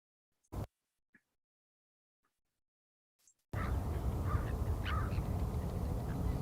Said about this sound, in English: So these are the Bonaparte's gull.